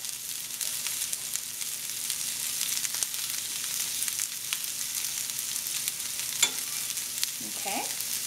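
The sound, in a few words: onions frying and sizzling in vegan butter, stirred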